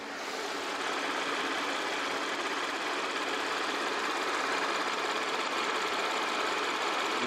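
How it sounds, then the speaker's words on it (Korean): A smooth, steady Audi A6 3.0 TFSI V6 engine idle drones on without change, a close continuous hum with no voices over it. "이 V6 엔진 소리 한번 들어보도록 하겠습니다"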